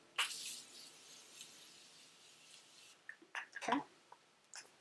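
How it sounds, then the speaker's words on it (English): Makeup setting spray gives a sharp hissing spritz near the start, followed by a few softer, brief hisses and handling noises, close and fairly quiet. "let me spray."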